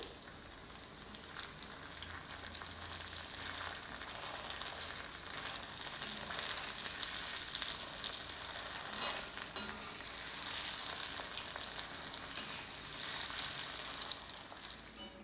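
Chicken pieces fry in hot oil for a restaurant-style crispy chicken fry, giving a dense, continuous close crackle and sizzle that swells slightly in waves, with no voices over it.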